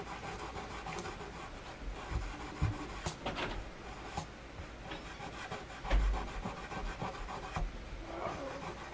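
Super fine grit rubbed across the frets of an Ibanez RG470 guitar, a quiet scratchy back-and-forth rasp with uneven strokes and a few soft knocks, close up and without talk.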